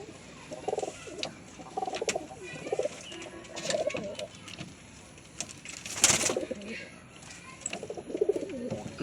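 Crested pigeons coo from inside their coop, with soft repeated calls and wing flutters coming and going, and a voice speaks intermittently over them.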